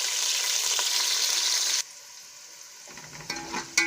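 Onions fry in a pan for a potato salan, giving a loud, dense sizzle that stops abruptly partway, then a quieter stretch with a few clattering utensil sounds at the end.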